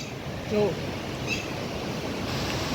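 Water rushing steadily at Droneshwar Mahadev temple in Gir Gadhada at dusk, a continuous broadband wash that holds fairly loud and even throughout, with brief faint tonal bits on top.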